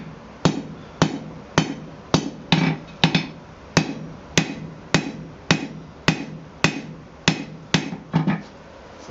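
Hammer on hot steel while forging blacksmith tongs: about fifteen sharp, ringing anvil strikes in a steady rhythm, some doubled with quick rebounds, loud and close with no talk.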